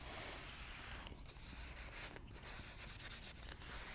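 Rhinestone transfer tape being smoothed down on a board with steady, close rubbing and sanding-like strokes, a few firmer swipes breaking up the continuous friction noise.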